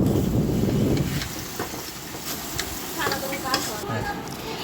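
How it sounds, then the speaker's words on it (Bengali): Meat, cornflour and spices stir-fried together for chili chicken in a Chinese-style home kitchen, a loud close sizzle early that settles into steady frying with scattered scraping and clinks of the spatula, no talking. "কর্নফ্লাওয়ার দিয়ে দেওয়া হলো এবং যে তোমরা দেখেছিলে মাংসটি ছিল ওই মাংসটা দিয়ে দেওয়া হলো এবং সেই মশলাটি দিয়ে দেওয়া হলো"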